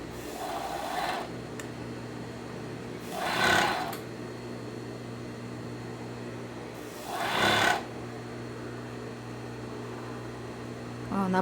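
Overlock sewing machine stitching around the edge of a black fabric carnival hat shaped like a beer mug, in two short bursts over a steady low hum, with a brief third start at the end.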